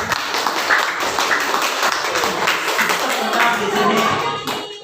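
Classroom audience clapping hands steadily for a student presentation, a dense patter of claps running the whole time with some voices mixed in.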